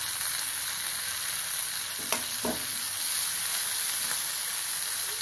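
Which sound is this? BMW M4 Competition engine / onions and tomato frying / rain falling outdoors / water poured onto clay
onions and tomato frying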